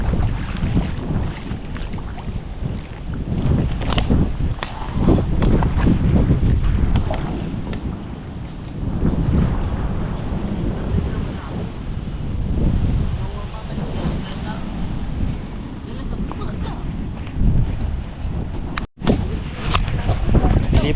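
Strong wind buffets a small boat on a river, a loud steady roar with gusting rumble throughout, and voices talking underneath.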